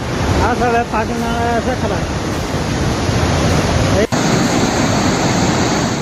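Flood water surges through the Anjani Mahadev stream near Solang Nala in Himachal after a cloudburst, a loud, continuous roar of rushing torrent that stays steady throughout, with a brief faint voice early on.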